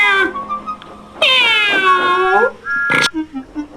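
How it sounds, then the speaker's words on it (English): A harbour master's cat meows several times from inside a truck, drawn-out, pitch-sliding cries with short pauses between them, close and clear, in an animated children's story. "It's only the harbour master's cat, Percy."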